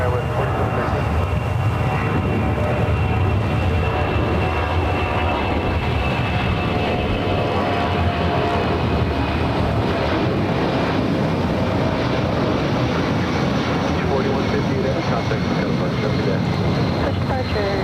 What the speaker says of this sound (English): Pretty normal takeoff.